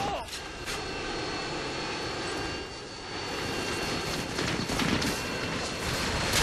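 Roaring engine of a Harrier jet in a first-person shooter match on the map Overgrown, a steady broadband jet drone holding loud throughout, with faint clatter of other game sounds mixed in and a voice talking over it.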